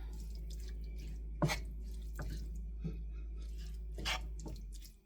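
A few sharp splashes and drips of water land in a pan over a constant low hum, quiet and spaced apart.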